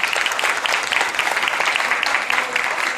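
Audience applause at a rautalanka guitar music pageant in Nastola, steady dense clapping throughout, fairly close and even in loudness.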